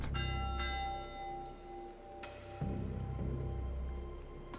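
A church bell tolls in a video game about a monk organising a library, with resonant strikes and a long ringing decay under a steady tonal ambient bed.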